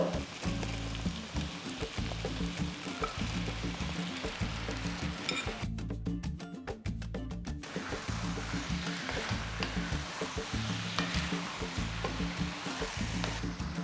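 Bone-in chicken, cut into medium-sized pieces, sizzles and fries steadily in a pan, a continuous crackling hiss with a brief change in texture midway, close and without speech.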